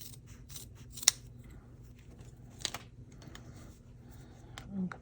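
Scissors trimming a fabric tag, a few crisp, quiet snips spaced apart, close to the mic over a soft background hum.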